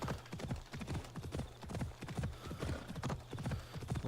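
Horse hooves clip-clop at a steady galloping rhythm in Assassin's Creed Odyssey, close and continuous, with an occasional faint whinny and brief background voice.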